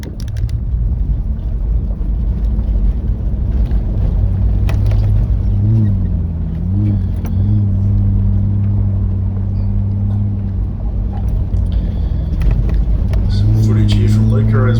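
A 4WD with an 8-speed automatic climbing over hills on the Arkapena loop at Rawnsley Park in the Flinders Ranges, a steady loud engine drone with a few shifts in pitch, and road and wind noise throughout.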